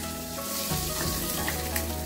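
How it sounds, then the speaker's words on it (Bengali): Oil sizzling and crackling steadily as rohu fish fries in a pan, a dense continuous hiss close up. "দাঁড়ান মাছটা ভেজে নিই।"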